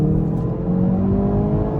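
A 2024 Hyundai i30N accelerating hard from inside the cabin, its engine drone loud and steady with a brief shift under the N power shift gear change, continuous and close.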